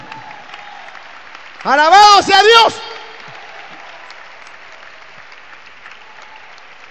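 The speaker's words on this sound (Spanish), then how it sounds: "Un aplauso grande para el Señor." A congregation at an evangelical preaching service applauds for the Lord in a steady, moderate wash of clapping, while someone briefly shouts praise over it.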